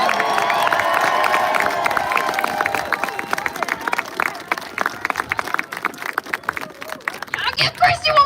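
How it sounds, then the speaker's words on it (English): A rally crowd cheers and applauds, with voices and whoops ringing out over the clapping at first, then scattered claps thinning out before a fresh surge of cheering near the end. "Give Christy one more round of applause"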